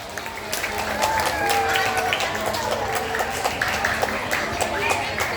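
A group of children claps and cheers during a storytelling session, a lively patter of applause with crowd voices and chatter running over it.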